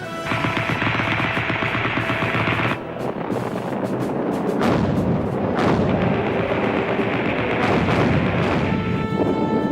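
Anti-aircraft guns firing during First World War air defense, heard as rapid bursts of heavy gunfire and booms over a dense rumbling background, loud and continuous for about ten seconds.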